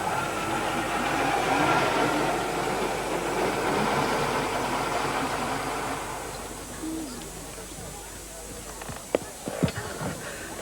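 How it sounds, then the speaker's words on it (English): A car engine rumbles steadily as it draws near and settles into an idle, a broad, loud drone that eases off toward the end, with a few brief knocks and thumps at the close. "but I can hear a car."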